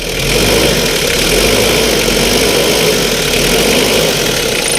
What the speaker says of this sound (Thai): ฟังเสียงเครื่องยนต์ได้